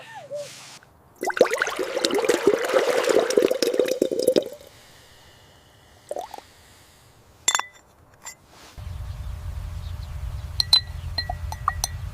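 Water flows and splashes for a few seconds, joined by clinks and drips, then gives way to a low, steady rumble. No one talks.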